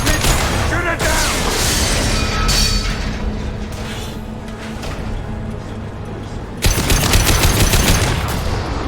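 Sustained automatic gunfire during a Mass Effect 2 combat sequence, loud and continuous with rapid cracks, a heavy burst near the end and game effects mixed underneath.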